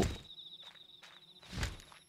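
Soft, distant footsteps in the Japanese horror game Yomawari 3, a few muffled steps spaced out over a quiet backdrop with a faint steady tone.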